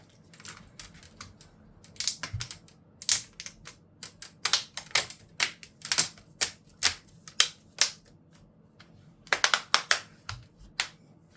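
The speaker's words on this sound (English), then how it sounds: "Let's put that front bezel back on." The plastic front bezel of a Dell Inspiron 15 laptop is pressed back into place with a run of sharp, crisp snaps and clicks. The clicks come in irregular bursts, close and clear, with no talk.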